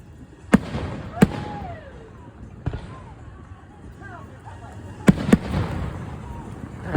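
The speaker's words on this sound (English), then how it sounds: "Fireworks!" Fourth of July fireworks show in Harrison, Idaho: several sharp, loud bangs, some in quick pairs, ring out over crowd chatter and whistling tails, with voices talking and cheering throughout.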